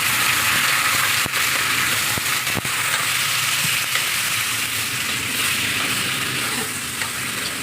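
Chicken pieces for adobo sizzle and crackle loudly in a hot pan, a dense continuous frying noise broken by a few sharp scraping stirs and clicks.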